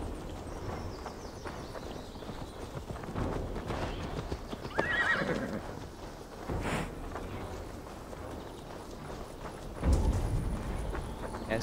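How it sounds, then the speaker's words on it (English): Horse hooves clip-clop steadily in Assassin's Creed Valhalla, with loud neighs and whinnies breaking through a busy game soundscape for about twelve seconds. "You have a horse, you can ride it."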